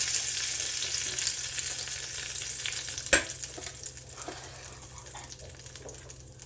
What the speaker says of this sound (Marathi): आता ही फोडणी मिक्सरमध्ये चटणी केली आपली खोबऱ्याची त्यात घालते